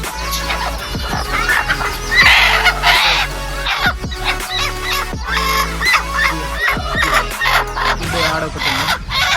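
Chickens cluck and squawk continuously close by on a native chicken farm with turkeys, a busy flock with overlapping calls and occasional louder honking cries throughout.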